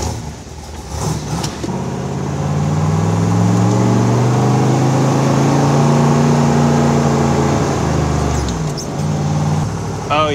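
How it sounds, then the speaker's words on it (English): A 1967 Chevrolet Corvette L71 435hp rumbles loudly through its side pipes. The deep exhaust drone swells and holds as the car pulls away, and voices talk briefly at the start and end. "Oh yes, listen to those side pipes."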